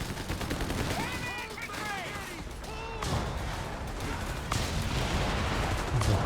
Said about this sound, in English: There's a creeping barrage.